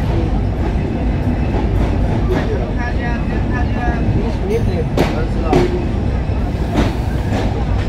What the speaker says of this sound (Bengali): আমরা চুয়াডাঙ্গা জেলার চুয়াডাঙ্গা রেলওয়ে স্টেশনের 1 নম্বর প্ল্যাটফর্মে প্রবেশ করেছি।